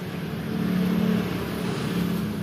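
Honda Jazz GD3 car engine starting and settling into a steady idle during radiator air bleeding, a low continuous hum heard close and alone.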